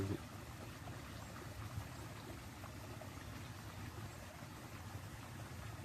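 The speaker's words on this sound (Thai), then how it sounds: "น้ำไหลหล่นอยู่" Water flowing and trickling steadily in a rice paddy channel during light rain, a continuous low watery wash with no talk.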